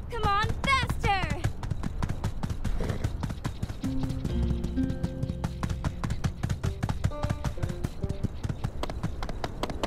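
Horse hooves galloping in the video game My Time at Sandrock, a steady rapid clip-clop running throughout over game music with some melodic tones, with a rider's voice briefly urging the horse on near the start.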